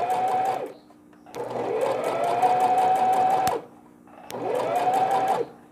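A sewing machine stitches fabric pieces of a newborn's round baby pillow in three sustained whirring runs, each with rapid needle rattle, broken by short quiet pauses.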